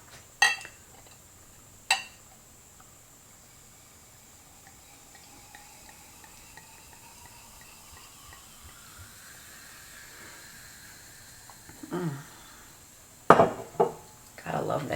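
Freshly poured sparkling wine fizzes in a glass at close range, a soft continuous hiss of bubbles between a few sharp clinks and knocks.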